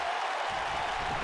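Arena crowd noise from a WWE 2K wrestling match in an NXT setting, a steady broad roar with scattered applause that swells slightly partway through, continuous and fairly quiet with no talk.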